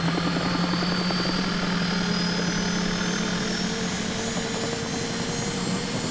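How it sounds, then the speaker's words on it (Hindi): Aircraft engine in a cartoon starts and keeps running, a steady loud droning roar with a low hum throughout, close and continuous with no pauses. "इंजन शुरू कर दिया।"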